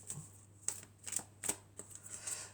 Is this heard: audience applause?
no